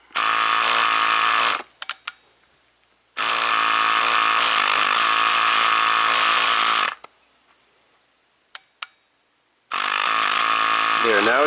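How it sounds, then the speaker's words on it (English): A loud electric cruise control vacuum pump on an Audi turbo drones in two long bursts separated by quiet pauses with a few clicks, then starts a third time. "Now if we energize the vent and energize the pump"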